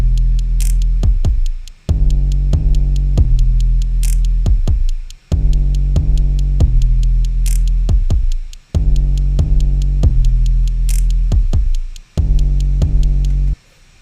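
A drum loop programmed in FL Studio, with kicks removed from some measures, plays as clusters of booming low thumps under steady ticking percussion, with breaks where the kick drops out.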